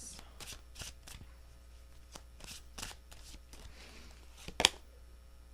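Tarot cards being shuffled by hand in short riffling bursts, several quick rustling passes spread across the moment, with one sharper snap near the end; close and fairly soft, no talking over it.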